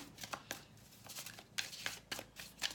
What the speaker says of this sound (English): Just doing my shuffling on camera as we meditate on the energy